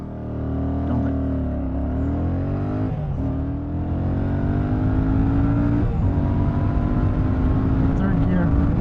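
A 2024 Royal Enfield Shotgun 650 motorcycle accelerates hard through the gears, its loud engine note rising in pitch, dipping at each shift and climbing again, close and steady throughout.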